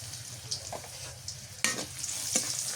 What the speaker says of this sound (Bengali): রসুনটা লাল লাল ভাজা হয়ে গেছে